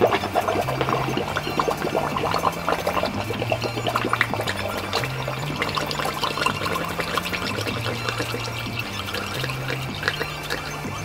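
Air bubbling and gurgling out of a Mazda Miata's coolant reservoir during a heater hose and radiator hose replacement, a continuous close, busy burble with irregular pops and a pulsing low tone underneath.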